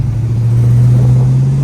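A 1966 Chevrolet Chevelle engine pulls steadily while driving, a loud, continuous low rumble with a smooth, even drone and no talk over it.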